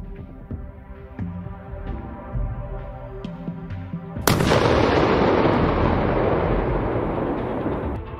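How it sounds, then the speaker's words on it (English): Grenade dropped by an FPV drone exploding inside a T-80 tank, a sudden, loud, close blast that follows a stretch of muffled thumps and rumble and then rolls on as a long, gradually fading roar. "A drone throws a grenade into the hatch of a T-80 tank."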